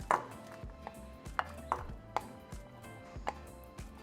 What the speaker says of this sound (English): just make sure that you chop them into small pieces